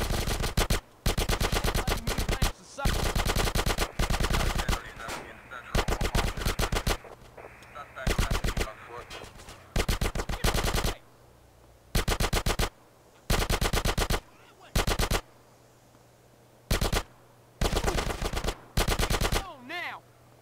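Automatic rifle and submachine gun fire in GTA San Andreas, an MP5 and an AK, crackling in repeated rapid bursts with short pauses, loud and close throughout.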